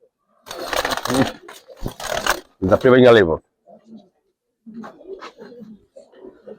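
A Giribaz pigeon gives brief cooing among other birds, mostly under someone talking nearby, with a short harmonic coo in the middle and quieter calls after.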